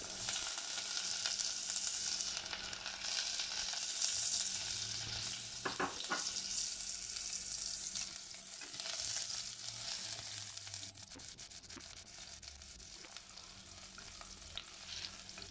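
Onion frying in oil in a hot pot on a stove, a continuous bright sizzle with occasional stirring clatter, close and steady throughout.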